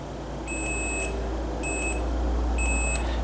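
An electrical continuity tester, used on the wiring of a Ford 800 tractor, gives three high steady beeps spaced about a second apart, each lasting roughly half a second, over a low background hum.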